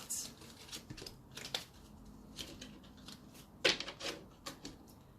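Tarot cards are moved and shuffled on a surface in a stream of soft, close slides, taps and papery flicks with a few sharper snaps and faint background noise.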